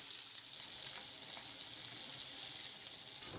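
Steady, crackling sizzle of chopped green chillies and curry leaves frying in hot oil, close and continuous without pause.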